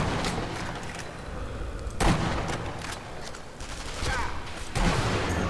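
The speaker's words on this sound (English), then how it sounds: "It can be a bit hard to locate where they're firing from sometimes." Gunfire in the video game Sniper Elite V2: sharp shot bursts crack out at intervals over a continuous noisy battlefield backdrop, a couple of louder reports standing out near the start and end.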